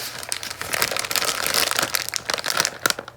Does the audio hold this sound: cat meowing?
no